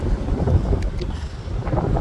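Strong wind gusting on Bermuda island, a steady loud roar with buffeting rumble against the microphone, continuous throughout with no talking.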